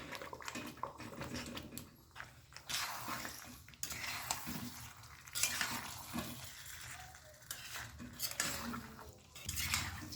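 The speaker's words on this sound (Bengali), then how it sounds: "চিকেনটা দেওয়ার পর সমস্ত মশলার সঙ্গে একটুখানি নাড়াচাড়া করে নিয়েছি" Chicken being stirred with cumin paste, turmeric and other spices in a pan: soft scraping spoon strokes come in uneven waves over a quiet, constant sizzle, close by and with no voices.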